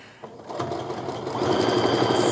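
A sewing machine stitching quilt pieces runs close and loud, starting slower and then speeding into a steady rapid mechanical whir with no talking.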